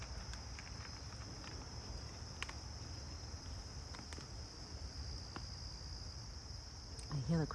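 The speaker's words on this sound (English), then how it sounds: "I hear the crickets already." Crickets chirp outdoors in the evening, a steady high-pitched drone that runs unbroken through the whole stretch, with a few faint taps and a soft rustle near the end.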